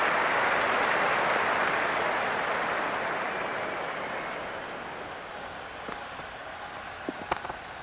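Crowd applause in the cricket video game Cricket 26: a broad, steady wash of clapping and cheering from a stadium crowd that slowly fades, with a few faint clicks near the end.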